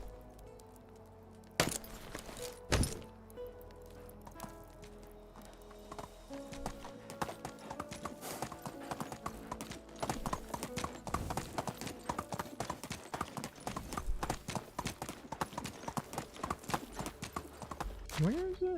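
Horse hoofbeats in the video game Medieval Dynasty, a fast, continuous clip-clop of a ridden horse, close and moderately loud, with sharp cracks early on and brief voices in the background.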